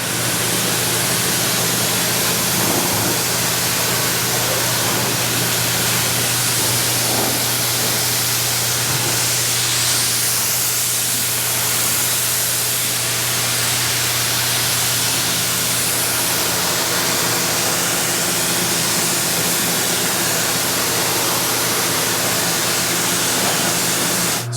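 A water sprayer blasts steadily into the sealed engine bay of a Ford Raptor during a rinse, a loud, continuous hiss that barely changes in tone for the whole stretch.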